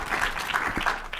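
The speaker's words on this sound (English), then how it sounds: "So please, a round of applause for our presenters." A brief burst of scattered clapping from a small crowd, even and continuous.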